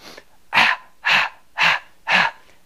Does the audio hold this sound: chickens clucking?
no